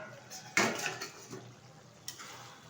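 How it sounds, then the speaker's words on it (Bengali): A metal lid is lifted off a pot of simmering vegetables and dried Bombay duck fish, giving a sharp clank followed by lighter rattles and a softer knock near the end, close by with no talk. "ঢাকনাটা তুলে দিচ্ছি।"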